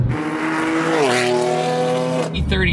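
BMW M3 with 540 horsepower on Michelin Pilot Super Sport tires, loud engine roaring at high revs during wheelspin, pitch sagging then holding steady before an abrupt drop near the end.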